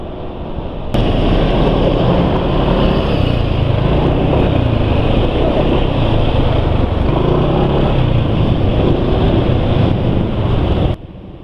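A car engine running on oil that is too thin, with a steady ticking rattle from the valvetrain in a dense, continuous mechanical drone that starts abruptly, holds loud for about ten seconds, then cuts off.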